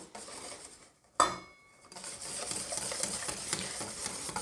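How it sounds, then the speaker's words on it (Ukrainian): Flour is worked into lemon cookie dough in a bowl, with a sharp clink of a utensil against the bowl followed by continuous soft scraping and stirring close by. "Продовжуємо замішувати до отримання однорідного еластичного тіста."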